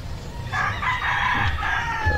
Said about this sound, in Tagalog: maririnig mo rito mga tilaok ng manok